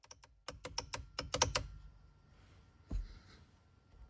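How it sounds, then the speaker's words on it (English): Rapid crisp plastic clicks of magnetic paddle shifters in a BMW, in a quick burst, then a pause and one more louder click, close by in a quiet room. "And now a little demo of how the paddle shifter sound."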